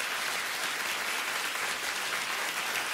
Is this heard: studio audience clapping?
yes